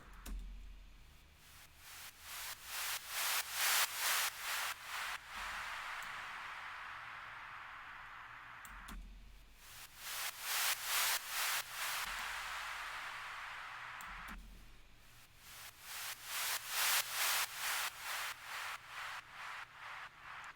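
Hissing white noise sweeps in a trance track swell and fade three times, each time between bursts of pulsing, rhythmic beats; no voices are present.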